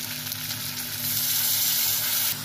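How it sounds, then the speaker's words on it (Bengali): Spice paste of chili, turmeric and cumin mixed with water sizzles steadily in a hot pan, with a soft bubbling hiss that swells briefly midway, close and alone. "এবার আমি মশলাটা ভালো করে কষে নেব।"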